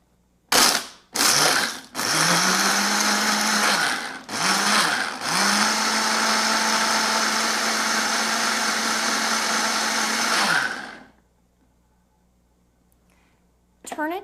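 A blender with a single-serve cup runs in pulses: two short whirring bursts, then a long steady grinding drone with a brief break, cutting off sharply before a quiet pause and another short burst at the end.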